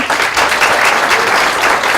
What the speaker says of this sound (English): So please give a big round of applause for our panel, everybody.